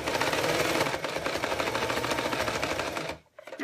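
Sewing machine running steadily while top stitching around a zipper pouch, a continuous fast mechanical whir close up, stopping briefly near the end.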